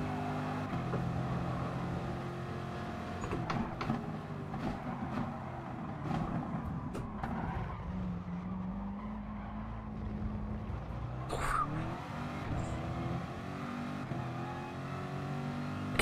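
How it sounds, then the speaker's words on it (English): Race car in Gran Turismo Sport weaving to warm its tyres, engine droning and shifting pitch with brief tyre screeches, moderately loud and continuous. "Insane tyre warming skills."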